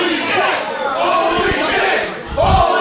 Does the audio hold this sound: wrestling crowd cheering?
yes